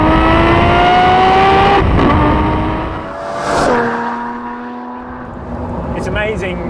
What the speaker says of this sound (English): the monstrous engine, the last of the magnificent line of Bizzarini V12s